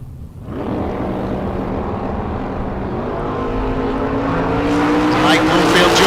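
Drag racing cars launch off the line at the K&N Spring Fling Million bracket race, a loud engine roar swelling and holding for several seconds.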